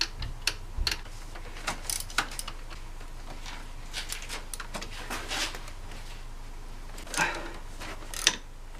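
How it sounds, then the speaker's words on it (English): Bolts are removed from the coil rail of a Jeep engine with a ratchet, giving scattered light ticking clicks and small metallic taps heard up close and fairly faint. "now once I've removed those 4 bolts"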